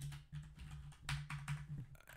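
Rapid, scattered clicks of keys being pressed on a computer keyboard, close and fairly quiet, over a steady low hum while playing Yakuza 0.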